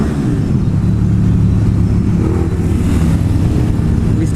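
A 2017 KTM Super Duke motorcycle engine runs loud and close inside a road tunnel in Spain, a dense, continuous droning roar that echoes off the walls without letting up.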